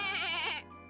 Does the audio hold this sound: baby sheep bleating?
yes